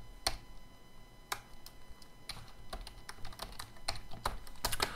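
Computer keyboard typing while code is written, irregular keystroke clicks in quick bursts, close and clear with no talking.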